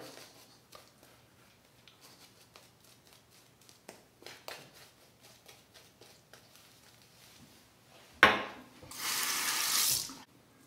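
Soft scraping and faint taps during a shave with a Merkur 47C razor give way to a brief splash, then a steady stream of tap water runs into a sink for a face rinse, close and clear.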